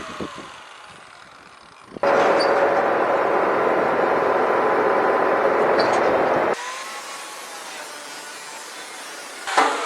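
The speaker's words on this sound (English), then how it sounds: "So I bought two 10-packs of these cutoff wheels, these Warrior cutoff wheels from Harbor Freight." An angle grinder with a Warrior cutoff wheel cuts metal on a trailer, a loud steady high whine lasting about four seconds that then drops to a quieter spin-down, with short bursts at the start and end.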